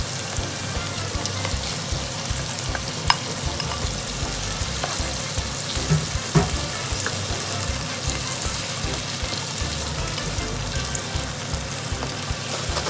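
Chicken and tomato frying and being stirred in a pan for pinakbet: a continuous close sizzle with occasional scrapes and clicks of the utensil, no talking.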